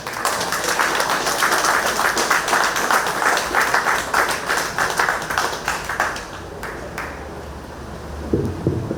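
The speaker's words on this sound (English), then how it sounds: "let's have a better round of applause for Comrade Abdullah." A community meeting audience at a civic centre gives sustained, dense applause that fills the room for about six seconds, then thins out and stops, leaving faint room noise and a brief low rumble near the end.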